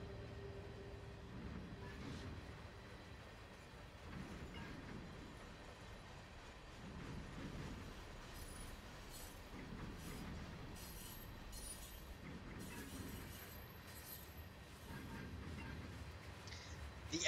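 Train rolling along the rails in a simulator game, a low steady rumble with faint periodic clatter from the wheels and some thin squeals near the end, quiet and continuous.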